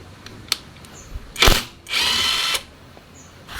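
A power tool removing the hose clamp bolt on a Honda Beat FI scooter, with a short whir followed by a longer steady buzz, close by amid small workshop clicks.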